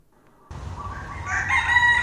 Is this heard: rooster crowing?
yes